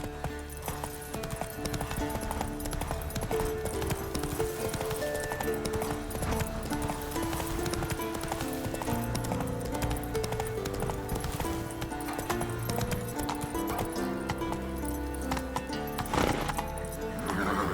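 A horse gallops in The Witcher 3 with rapid, rhythmic hoofbeats that continue throughout at close range, over a steady bed of game music and ambience.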